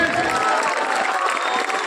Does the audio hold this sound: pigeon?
no